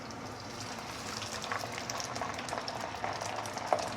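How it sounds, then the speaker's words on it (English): Hot water hisses and bubbles as it is added to a hot pan of sautéed black pomfret, a dense crackling sizzle with scattered pops, fairly quiet and close. "Next thing, we're going to add in some hot water."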